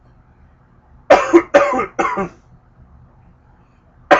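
A person coughs three times in a quick, loud burst, each cough harsh and close, then a short quiet stretch before another cough starts at the very end.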